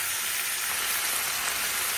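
Spice mix for pointed gourd peel mash frying in a pan, a steady dense sizzle that holds evenly throughout without pauses or talk.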